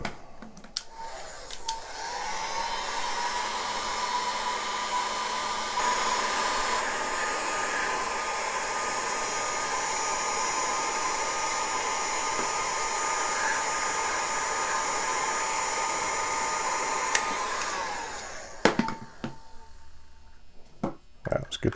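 A heat gun blows steadily and loudly for about seventeen seconds while warming a Buck knife sheath, then cuts off, leaving a few handling clicks and knocks.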